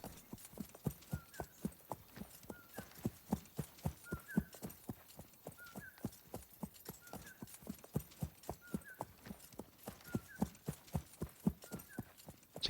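Horse hooves clip-clop in a steady, even rhythm in the Wild West Online video game, a continuous quiet trot repeating for many beats with a faint low hum beneath.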